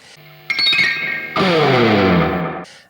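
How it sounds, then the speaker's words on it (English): Bright, metallic chinking strums on electric guitar strings struck behind the bridge from treble to bass, a few quick jangly strikes followed by a longer ringing strum that decays, with a short clink at the end. "if you strike the strings from treble to bass there, you get that amazing piano-like chink"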